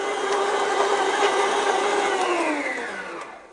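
Stand mixer kneading bread dough for cumin-flavored bâtons salés at slow speed, a steady close motor whir with a slowly falling pitch that fades out near the end, with no talking.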